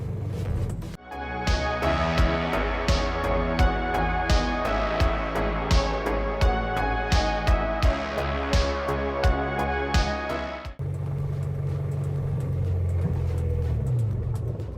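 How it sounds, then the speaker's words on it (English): A car engine running on synthetic gasoline made from tires, with the revs held up: a loud, steady drone with regular rhythmic pulses for about ten seconds, then an abrupt drop to a lower, smoother rumble. "I have brought the revs up and let's go."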